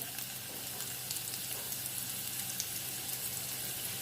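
Chopped garlic and ginger fry in a pan for cauliflower Manchurian, giving a steady, even sizzle with faint crackles throughout, close but fairly soft with no voices.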